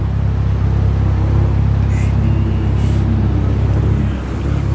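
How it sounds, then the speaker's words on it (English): A BMW car passes by on a street in Twin Falls, a loud steady engine rumble and tire roar close by that eases slightly near the end, with no talking. "Damn, another BMW."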